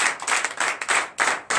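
A church congregation at a deliverance night service claps and acclaims in loud, rhythmic bursts, a dense wash of hands with short gaps between waves, close and filling the room.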